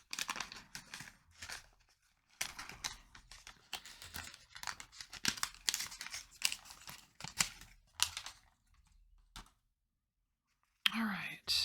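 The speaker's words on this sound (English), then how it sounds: "we're gonna open your 10 cards. Then I'm going to shuffle these" Tarot cards are unwrapped and shuffled close up, with crinkling, tearing and papery riffles in bursts under soft whispered talk, then a short pause before louder speech at the end.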